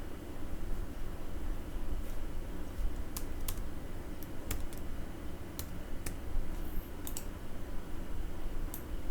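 A computer mouse clicks while someone works in an Excel spreadsheet, with sharp, close, irregular clicks scattered over a steady background hiss and no voices.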